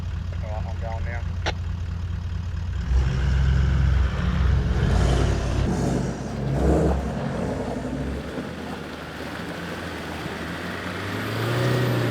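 Jeep engine driving off-road on an outback track in low second gear, a steady low drone that swells and labours, then eases off, with people talking over it.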